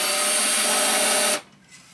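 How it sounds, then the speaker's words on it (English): A power drill fitted with a countersink bit whirs steadily at high speed while boring a small starter hole for guitar electronics, then stops abruptly, leaving near silence. "I am going to need to drill a little hole, this countersink, while I got it in the bit"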